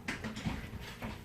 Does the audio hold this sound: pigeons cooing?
no